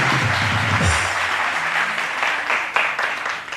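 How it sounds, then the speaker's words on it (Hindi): Audience applause in a studio-style setting, a broad wash of clapping under a brief low voice at the start, steady and fairly loud before tapering slightly. "राशिद के लिए बहुत सारी तालियां दी।"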